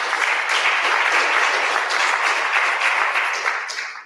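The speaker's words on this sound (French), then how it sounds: "on peut encore applaudir Benoît et Héloïse pour leur intervention" Conference audience applauding two presenters after their talk on the circular economy in construction, a dense sustained wash of many hands clapping that holds steady and then begins to fade at the end.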